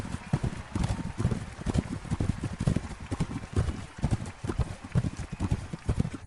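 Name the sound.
donkey hooves galloping in a race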